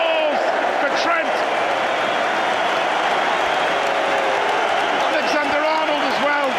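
Liverpool fans at a Premier League match applaud Trent Alexander-Arnold, a broad, steady wash of stadium clapping and crowd noise that carries on unbroken under a commentator's voice.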